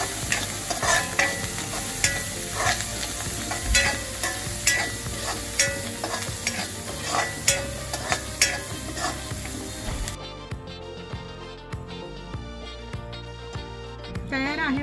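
Green chillies with squeezed lemon and coriander are stirred in a sizzling pan, a spoon knocking and scraping in a regular rhythm over a soft fry, quieting and thinning near the end.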